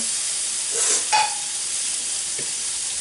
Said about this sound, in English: here's me sauteing the reds